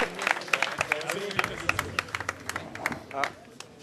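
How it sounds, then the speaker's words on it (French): An audience applauding at the end of a student association debate in France, a crowd of sharp overlapping claps with cheers and voices mixed in, fairly close and sustained. "Vous pouvez vous applaudir"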